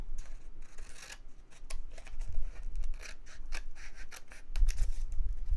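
Scissors snip and rasp through a thin vinyl sheet, a steady run of quick crisp cuts with some rubbing and scratching, close by and without talk.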